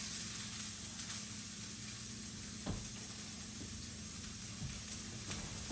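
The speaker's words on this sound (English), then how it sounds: "I'm gonna start off with sauteing the shallots a little bit." Shallots sauteing in a pan with a small amount of oil, making a steady, faint, even sizzle and hiss throughout, with one or two soft clicks from a utensil.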